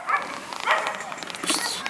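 A dog gives a few short barks and whimpery yips at close range indoors, mixed with a voice talking during interior car part repairs on a Subaru WRX.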